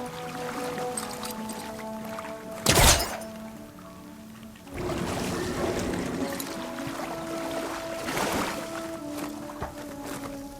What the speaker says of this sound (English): Water's pouring right up against the pipe.